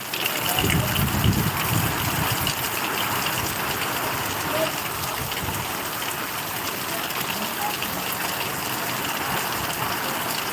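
Heavy rain pours down in a dense, steady rush of water with a gushing, hissing roar that stays loud and constant throughout.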